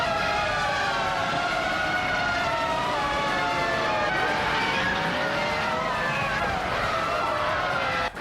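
A Williams FW20 race car in a racing video game drives on with a loud, continuous, high-pitched engine whine that rises and falls in layered tones throughout, with no break.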